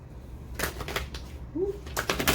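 Tarot cards being shuffled by hand, heard as a few short, soft riffling bursts spaced across a quiet, close-up moment with no talking.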